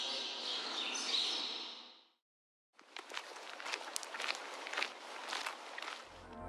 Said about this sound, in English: ambient outdoor sounds, kind of like background birds and walking sounds